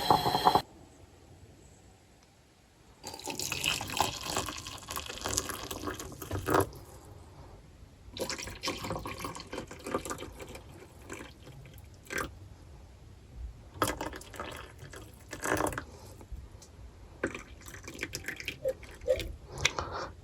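A tap runs inside a camper van to fill a container for coffee, a soft, uneven splash of water coming in bursts with quieter gaps between, fairly close and without talk.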